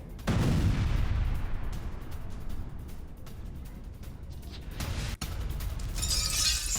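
Heavy bombing strikes hit Beirut's Dahiyeh at midnight, a loud broadband blast followed by a rolling low rumble, then a second burst of crackling debris and noise near the end, with no voices.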